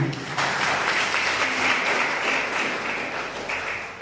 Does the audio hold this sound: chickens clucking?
no